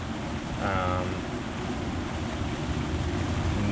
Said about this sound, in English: it is a downpour right now.